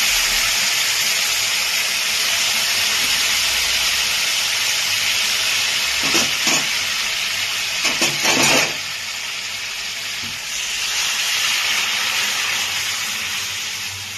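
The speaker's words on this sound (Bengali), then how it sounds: "এর মধ্যে আমি এবার ডালটা দিয়ে দিচ্ছি।" Matar dal tipped into a pan of fried tomatoes, giving a loud, steady steamy hiss and sizzle that runs throughout, with a few brief clatters partway through.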